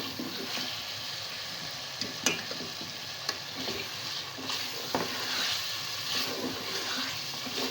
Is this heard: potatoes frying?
yes